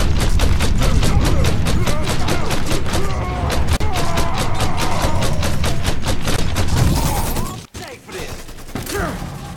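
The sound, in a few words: gunfire in video game Mafia 3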